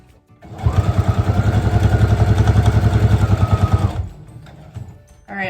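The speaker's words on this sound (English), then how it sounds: "Lower the presser foot, find my foot pedal under here, and we're gonna go to town." A sewing machine run by foot pedal stitches at home in a fast, even, rapid rhythmic whir for about three seconds, close and fairly loud, then stops, leaving quiet room sounds.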